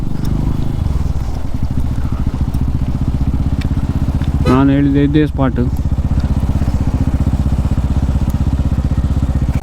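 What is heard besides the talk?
motorcycle engine while parking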